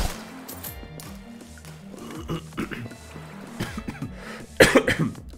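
A man coughs in harsh, scattered bursts while playing a dungeon hack-and-slash game, ending in a louder close fit of coughing, with some voice sounds mixed in.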